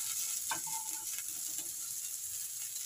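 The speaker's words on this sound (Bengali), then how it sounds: "তো চলো কপিগুলো আগে আমি ভেজে নিই" Cauliflower florets frying in a pan, a steady close sizzle with faint stirring scrapes and no talk.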